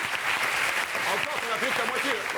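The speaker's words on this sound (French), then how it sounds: "Ça mérite encore plus d'applaudissements" Studio audience at a French TV cabaret show applauds steadily and loudly throughout, with voices faintly audible over the clapping.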